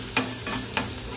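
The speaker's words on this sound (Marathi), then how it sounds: "कढईत कांदा आलं लसूण पेस्ट चांगली फ्राय झालेली आहे" Onion, ginger and garlic paste frying in oil in a kadhai, a steady hiss with two quick scraping stirs of a spoon, close and even.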